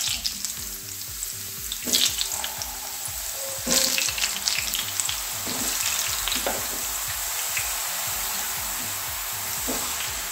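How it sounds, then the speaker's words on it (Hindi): Potatoes deep-frying in hot mustard oil make a steady, dense bubbling sizzle that stays close and loud throughout, with a few sharper crackles and pops over the continuous hiss. "अब हम इन आलूओं को डीप फ्राई करेंगे।"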